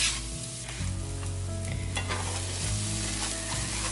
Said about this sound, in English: add our onions and saute those for just a little bit